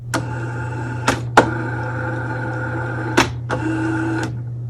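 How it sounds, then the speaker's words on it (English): A steady mechanical whirring hum with a low drone, broken by several sharp clunks and clicks as a Logitech G series racing wheel runs its startup calibration, driving back and forth and stopping. "The unmistakable sound of a startup calibration for the Logitech G series."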